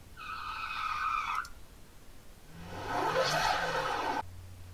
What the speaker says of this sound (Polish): szukałem na przykład pisku opon, więc wpisałem tires